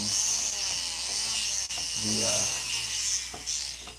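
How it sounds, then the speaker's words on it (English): Nova diamond burr wheel grinding gem-grade fire agate, a steady close rasping hiss with a brief break partway through and shifting pitch as pressure on the stone changes. "the burr grit on Nova wheels that is actually doing some pretty cool work"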